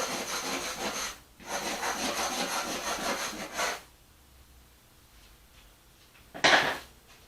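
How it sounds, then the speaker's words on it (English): A little rake scrapes through paint in two long rasping strokes, the first about a second long and the second about two seconds, followed by quiet and then a short sharp scrape, close and unaccompanied. "Scraping through with the little rake"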